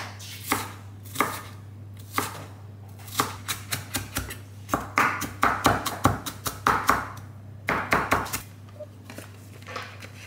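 Knife chopping onions on a cutting board in a home kitchen: irregular bursts of quick, close taps, sometimes slow and spaced, sometimes rapid runs, over a low steady hum, no talking.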